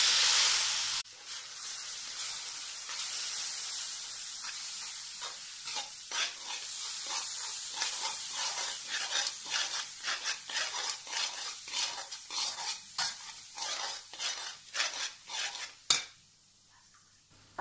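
Leftover-sweets halwa with milk is stirred quickly over high heat, a rapid series of scraping spoon strokes against the pan over a sizzling hiss, ending with a sharp clank.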